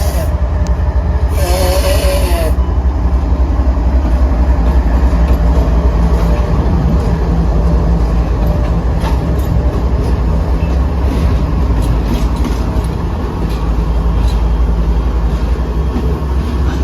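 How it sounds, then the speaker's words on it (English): A pair of CSX locomotives, 3398 and 5264, reverse through a rail yard toward the yard office, a loud steady diesel rumble with rail clatter, plus a brief high squeal near the start. "3398 and 5264 reversed back to the CSX yard office"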